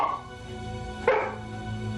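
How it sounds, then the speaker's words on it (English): A single sharp dog bark rings out over a steady musical background. "And finally, the barking started."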